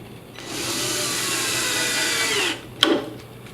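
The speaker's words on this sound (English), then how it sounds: "we'll pop this one screw in here" A power drill drives a long screw into a pre-drilled Rockwood Kitchens base cabinet, a close, steady whirring run of about two seconds that ends with a sharp knock.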